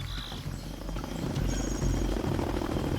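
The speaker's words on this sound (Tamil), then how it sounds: "ஹெலிகாப்டர் வருதா?" Helicopter arriving in the Zoo Tycoon video game, a steady low rotor drone with a buzzing hum that holds loud and continuous throughout.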